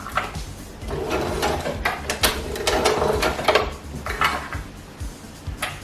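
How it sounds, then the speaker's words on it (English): A sewing machine with a twin needle sews elastic onto gym shorts fabric in uneven bursts of rattling, clicking mechanical clatter, close and moderately loud, with no talking. "This is another job for either your twin needle or your zigzag stitch. I'm using the twin needle."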